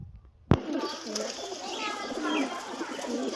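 Pigeons at a rooftop pigeon club in Sialkot, Pakistan, coo softly in low, rolling calls after a sharp thump, close by amid light background noise, with a voice briefly audible.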